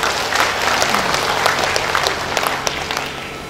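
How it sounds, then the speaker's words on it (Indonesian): Applause from the audience at a cooperative's annual members' meeting in Kupang, a steady clatter of many hands clapping, fairly loud, with a faint low hum underneath. "Ya, tepuk tangan dulu."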